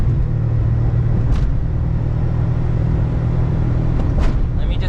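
A Mitsubishi Bravo kei van in fourth gear with the accelerator floored, driving in NYC, gives a steady, loud engine drone and road rumble that never lets up, with a couple of brief higher swishes passing by.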